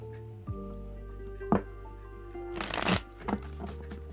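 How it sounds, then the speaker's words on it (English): A deck of tarot cards is riffle-shuffled by hand, several crisp fluttering bursts with soft taps and a louder final cascade, close and clear against a quiet room hum. "Nice shuffle."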